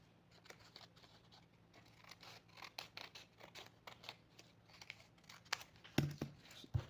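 Scissors snip through dress fabric pieces in steady bursts of close, crisp cuts, with faint rustling of the cloth between strokes.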